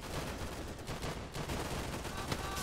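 Distant, dense gunfire in a World War II battle in the game Easy Red 2, set at Stonne during the Battle of France, a steady crackle of rifle and machine-gun shots blending into a muffled fusillade.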